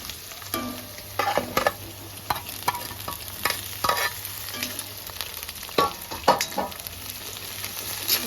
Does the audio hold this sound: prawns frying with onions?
yes